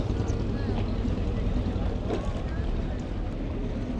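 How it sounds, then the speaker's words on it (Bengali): Speedboat engine running on the Bakkhali river near Maheshkhali Island, Cox's Bazar, a steady low rumble mixed with wind buffeting and water wash, continuous and fairly loud. "স্পিড বোট স্টার্ট হয়ে গেছে"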